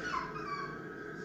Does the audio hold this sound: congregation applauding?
no